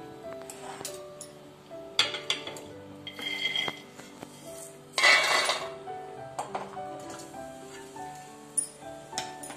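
Roasted peanuts being scooped out of a cooking pan, giving clinks and scraping metal-on-metal clatters at irregular intervals, with a louder rattling burst midway, close and fairly quiet.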